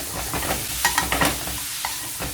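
A spoon stirs a buttery cinnamon mixture in a hot frying pan, giving a low steady sizzle broken by a few scraping clicks and taps of the utensil against the pan, close and alone without talk.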